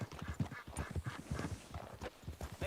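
Horse hooves clip-clop steadily in Red Dead Redemption 2, a quick even trotting rhythm of soft thuds, fairly close and moderately quiet, with no speech over it.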